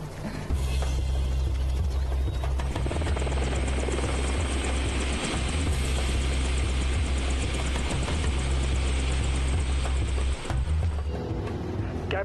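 A helicopter flies close by, its rotor thumping and engine whining loudly and continuously for the whole stretch, with no one speaking over it.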